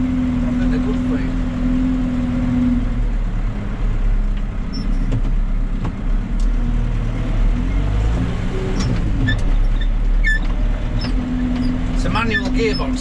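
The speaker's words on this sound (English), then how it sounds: "Manual gearbox this, it's not like hydrostatic like a lot of sprayers, so I'm in third gear now" A farm sprayer with a manual gearbox drives along in third gear, its engine a steady low rumble with rattles and clunks, while someone talks over it from inside the cab.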